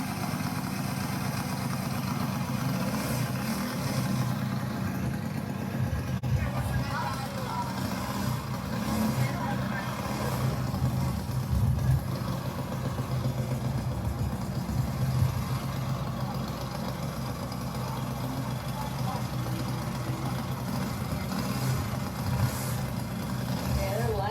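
An NHRA Jr. Dragster's small engine drones steadily throughout, a continuous low rumble at a constant level, with voices faintly mixed in.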